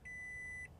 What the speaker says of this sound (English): I like that startup. I think that startup's great.